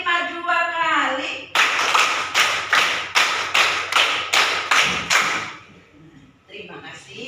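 Fifth-grade pupils in a primary school classroom clap in unison, a brisk run of about ten sharp, loud group claps in steady rhythm after a teacher's voice, then quieter talk.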